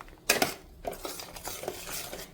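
A spoon stirs coconut paste into watermelon dal curry in a pan, giving a few faint metallic scrapes and clinks against the pan, with no talk.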